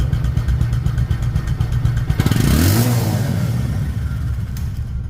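Up close, a Bajaj Discover 125cc motorcycle engine runs with a rough, steady rumble, swelling once as the throttle opens briefly, then settling back down.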